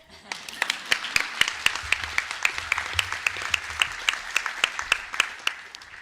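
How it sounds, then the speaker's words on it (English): Audience applause at a Democratic candidate forum for New York District 21: steady, moderately loud clapping from a modest crowd, with distinct sharp claps standing out over a continuous wash of hand claps. "You can clap for her."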